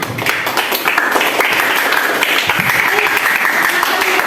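Students in a classroom clap for a group after its presentation, a busy, fairly loud round of applause with overlapping voices and chatter running beneath it.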